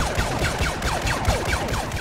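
Rapid volleys of sci-fi blaster cannon shots fire in quick succession in Star Wars Battlefront, with descending zaps overlapping amid game noise.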